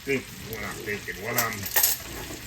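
Trout sautés in butter in a pan, a soft close sizzle with scraping and light clinks of a utensil against the pan, punctuated by a few louder metallic touches, with no talking.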